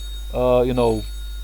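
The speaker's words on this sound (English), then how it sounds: "I have to answer an important phone call" A telephone rings once, a bright electronic trill with a brief break in the middle, lasting under a second against a quiet background.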